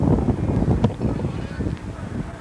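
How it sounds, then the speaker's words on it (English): Wind buffets the microphone at an outdoor high school baseball game in 1992, a low, steady rumble with gusty swells filling the whole stretch and no clear voices. "It's been a windy, partly cloudy, sun shining a bit right now afternoon."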